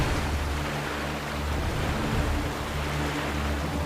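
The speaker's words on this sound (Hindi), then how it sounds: "नदी की धारा बहुत तेज चल रही है और अब हम इसमें खींचे जा रहे हैं।" Fast-flowing river current rushes as a steady, dense wash of water noise with a low rumble beneath, continuous and fairly loud, with no talking.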